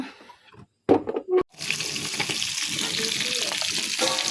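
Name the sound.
chicken frying in a pan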